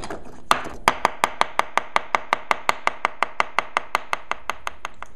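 Jalapenos are chopped with a knife on a board in a fast, even series of about twenty crisp taps, close and clear with no voices.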